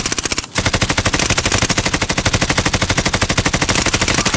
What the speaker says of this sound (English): Shit, where are you shooting me from?